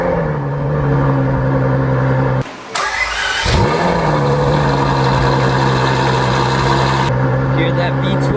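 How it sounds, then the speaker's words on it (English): Ferrari 812 Superfast V12 cold start: a loud engine whirs and fires, flaring up sharply, then settles into a steady, rumbling high idle that runs on to the end, close by. "Now that is a cold start right there. That thing is so loud."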